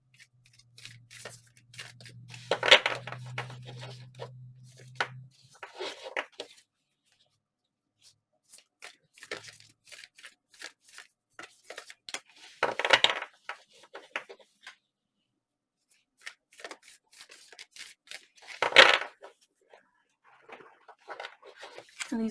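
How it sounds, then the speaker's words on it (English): Tarot cards are shuffled by hand in several separate bouts of crisp riffling and flapping, close and intimate, with quiet pauses between them and a low hum briefly underneath early on. "And these cards are so hard to shuffle."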